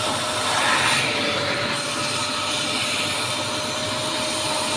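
A cold-water carpet and upholstery stain cleaner runs with a steady, loud motor roar and suction hiss, its tone shifting briefly as the brush moves.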